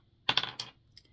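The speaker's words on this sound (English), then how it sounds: "to roll the dice to see what we get there" Dice rolled during a tarot-style reading, giving a few quick close clattering taps followed by a brief settling rattle, alone with no talk.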